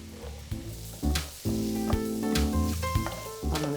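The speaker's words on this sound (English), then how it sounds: "And in go the mushrooms. So I'm just going to saute those for about 10 minutes" Mushrooms sautéing in a pan for beef bourguignon, a hissing sizzle partly buried beneath prominent music, with a few brief clacks.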